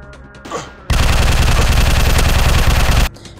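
Sustained automatic gunfire from the video game Fire Strike, a loud dense fusillade lasting about two seconds that starts and stops abruptly, with quieter game sounds around it.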